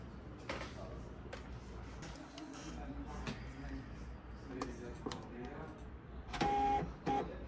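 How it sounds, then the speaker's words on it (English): Zebra ZD220 label printer calibrating, a series of short mechanical clicks and feed whirs, close, ending in a louder motor burst with a high tone, beneath a person speaking. "Now the printer is calibrating."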